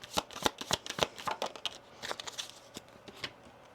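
Tarot cards being shuffled and drawn, close and fairly quiet, with a run of crisp riffling flicks and slaps in an uneven rhythm and no speech.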